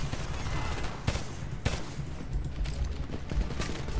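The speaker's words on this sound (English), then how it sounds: "Machine gun, second floor window." Machine gun fire from a second floor window in the Homefront video game, a steady rattling fusillade at moderate level with a few sharper loud shots standing out.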